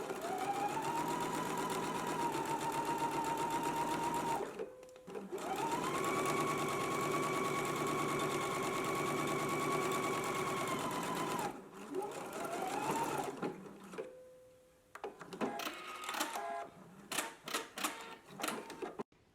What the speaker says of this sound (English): So I'm going to head to my sewing machine now.